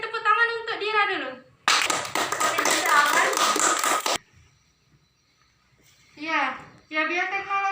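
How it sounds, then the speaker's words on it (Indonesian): Students in a junior high science classroom clap together in a dense burst lasting a few seconds, with children's voices speaking just before and after. "Beri tepuk tangan untuk Dira dulu."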